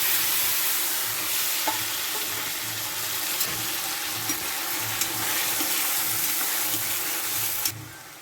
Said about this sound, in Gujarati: તેલ મૂકી દીધું છે. તેલ થઈ જાય પછી આપણે આગળ જોઈએ. નાખીએ બટેટા.